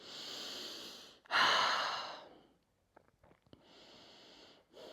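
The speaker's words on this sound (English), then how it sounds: "Breathing in and out of this wonderful space you're creating in the chest." Slow, deep breathing during a general yoga practice: a long airy breath, then a louder, fuller one, a pause, and another soft, sustained breath, heard close and alone.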